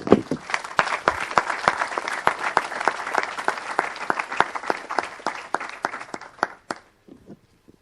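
A church congregation bursts into sustained applause, dense rapid clapping from a crowd that holds steady for several seconds, then tapers off into a few scattered claps and quiet.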